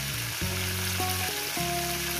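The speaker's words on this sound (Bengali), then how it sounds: "ওল আর আলু একসঙ্গে দিয়ে দিয়েছি। এবার এটাকে সুন্দর করে ভেজে নেব।" Chunks of elephant foot yam and potato frying with turmeric in a wok give a continuous, loud, close sizzle, with steady hissing and no talking.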